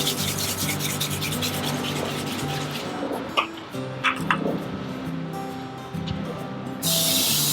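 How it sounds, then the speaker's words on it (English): Cooking spray hisses steadily inside a Lone Star Grillz offset smoker being seasoned, with rubbing and scraping sounds, a few sharp bursts midway, and a louder, brighter hiss burst near the end. "it's time to get to spraying"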